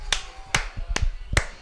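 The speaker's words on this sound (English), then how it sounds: "If you could hear my sarcastic clap on the broadcast." Four slow, evenly spaced hand claps from a commentator at a 2018 SELC tournament match between Florida Gulf Coast and Kennesaw State, crisp and close, with faint murmuring beneath.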